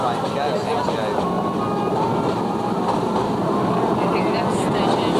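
A 1990 passenger train bound for Hangzhou, China, rolls along with a steady, loud rumble and faint clickety-clack of wheels on rails, continuous throughout, with voices faintly beneath it.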